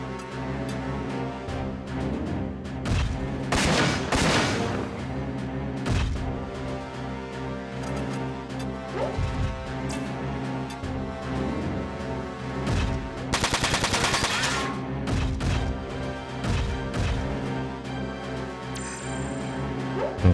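Shotgun blasts and rapid gunfire from mech combat in Front Mission 4, loud repeated bursts and heavy booms with sustained automatic fire, dense and continuous over a driving game soundtrack.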